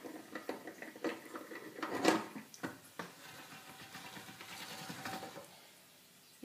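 Hand-cranked pasta machine rolling a sheet of dough through its rollers, a series of soft irregular clicks and rattles from the crank, fairly close and quiet, tapering off toward the end.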